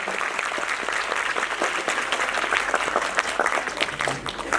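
An audience at an annual Noble Foundation function applauds a guest with steady, dense clapping that fills the room, loud and continuous throughout.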